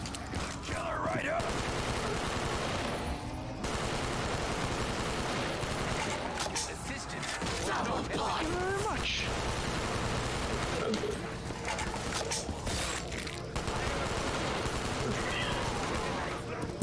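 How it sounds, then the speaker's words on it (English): Black Ops III custom zombies gunfire, with rapid bursts of automatic shots and mechanical weapon clicks mixed with game effects. Players talk excitedly over the steady, dense shooting. "I'm shooting them all."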